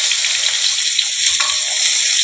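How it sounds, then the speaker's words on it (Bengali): Chopped onions fry in hot oil with cloves and small cardamom for a prawn malai curry, giving a close, loud, continuous hiss with faint stirring scrapes and no talking. "পেঁয়াজগুলোকে একটু ভাজা ভাজা করে নিতে হবে"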